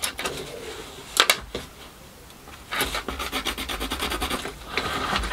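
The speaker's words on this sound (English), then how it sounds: "So I'll mark that up on my piece of timber just as a guide." Pencil or marker rubbing across a piece of timber to mark a guide line in a small shed workshop, heard as a few short scratchy strokes followed by a longer run of quick rhythmic rasping, close and fairly quiet.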